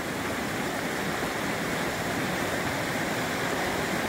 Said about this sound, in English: Crossing the river again.